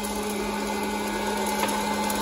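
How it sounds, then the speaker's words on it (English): An oil-free hot-air popcorn popper runs with a steady, close whirring blower hum and a continuous airy rush, broken by one faint click near the end. "This is an air popcorn popper, so it doesn't use any oil to pop it."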